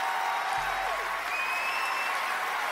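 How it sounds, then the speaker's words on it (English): Steady, dense applause from a crowd fills the whole stretch, loud and continuous clapping without pauses, during a Lord of the Rings Online gaming session. "That's still worth a round of applause."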